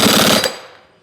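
Piston nut being tightened onto an automotive alignment rack cylinder during a reseal: a loud, rapid mechanical rattle for about half a second, then an abrupt stop and a fading ring.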